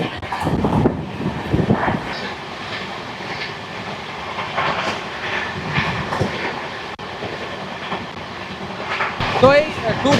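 Interior of the 22387 Black Diamond Express running from Howrah to Dhanbad, with a continuous rumbling roll, rhythmic clickety-clack of wheels over rail joints and some wind buffeting, close and steady throughout.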